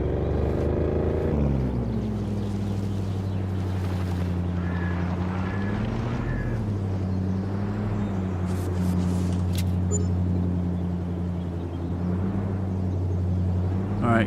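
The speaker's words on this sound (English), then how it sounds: "Sounds like the engine's missing." A vehicle engine in the video game Farming Simulator 22 runs with a misfire, a loud continuous low drone that shifts in pitch and wavers unevenly throughout.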